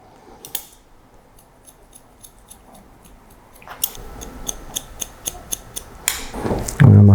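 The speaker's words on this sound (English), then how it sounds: "I'm going to cut that length just a bit lower down." Hair scissors snip a short-haired undercut style in a steady series of crisp, close clicks. The snips are quiet at first, then grow louder and quicker, ending in a burst of rustling.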